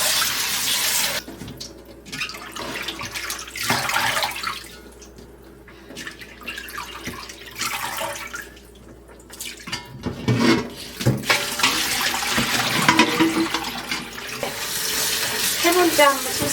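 Salted pickled radish gets rinsed under a running tap, with water splashing and gushing in a sink, close and fairly loud, swelling and easing as the pieces are moved and handled.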